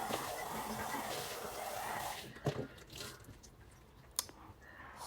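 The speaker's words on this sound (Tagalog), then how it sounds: "nililinis ko na ng tubig para tanggalin yung sabon" Water splashes and sloshes in a tub as soap is rinsed off during a shower in a home bathroom in Israel, with a steady rushing wash that gives way to softer drips and squishy splashes, close and fairly quiet.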